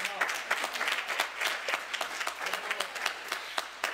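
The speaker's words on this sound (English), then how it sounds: "Clap your hands right there and give God some praise" A church congregation claps hands in praise, a dense, loud wash of applause with sharp individual claps running steadily throughout, and a few voices mixed faintly underneath.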